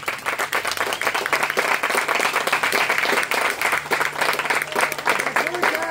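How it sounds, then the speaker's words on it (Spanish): A crowd at an evening event applauds loudly for all the mothers, a full, sustained wash of clapping with crowd noise and a faint steady tone underneath. "quiero escuchar un fuerte, fuertísimo aplauso para todas las madres esta noche."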